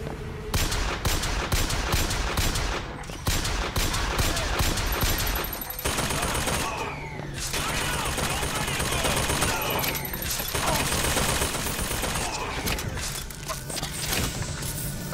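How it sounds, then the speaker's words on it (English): Sustained gunfire in Bioshock Infinite, with loud volleys of rapid shots in dense bursts separated by brief pauses and mechanical clanks between them, and a voice speaking briefly. "Are you still firing at me?"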